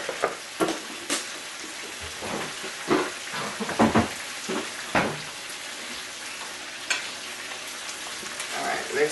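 Country Crock butter sizzling in a hot pan while Jamaican escovitched fish is cooked, a close crackling fry with sharp pops and bursts of stirring over a steady hiss, and no voices.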